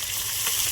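Chopped onion hitting hot oil already seasoned with bay leaf, whole cumin and dried red chilli, a steady close frying sizzle with no voices, the base of a home-cooked meat curry.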